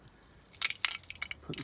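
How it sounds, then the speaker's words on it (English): A bunch of keys jangles and clinks in a few quick, close bursts as they go into the ignition of a VW T25 Vanagon. "Put the keys in the ignition."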